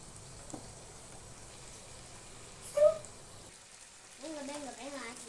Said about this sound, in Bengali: ভাজা মশলায় এবারে দিব কেটে রাখা চিকেন।